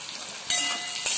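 Soyabean chunks fry in hot oil in a pan, giving a steady close hiss with two brief louder crackling bursts.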